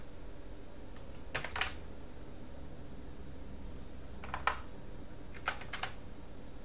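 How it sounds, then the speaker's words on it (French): Three short bursts of keystrokes on a computer keyboard while searching for an application on a NixOS Linux desktop, with crisp, close clicks separated by quiet pauses. "Moi je tape Kate."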